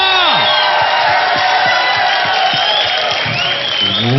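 A television talent show audience roars with cheers and whoops, with loud crowd voices rising and falling over scattered rhythmic claps, close and energetic throughout.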